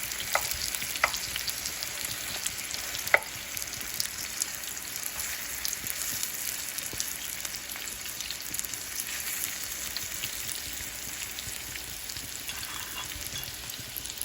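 Stuffed bitter gourd (karela) coated in besan fries in a pan on a very low flame just after being flipped, giving a steady, quiet sizzling hiss with faint scattered crackles throughout and no voices.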